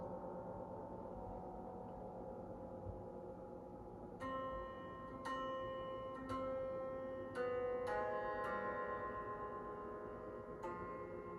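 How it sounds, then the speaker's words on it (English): Soft, resonant notes ring out from piano strings plucked by hand inside the piano, a handful of sharp, guitar-like twangs over a quiet sustained low bed, with no talking. "you use your right hand to pluck the string inside the piano"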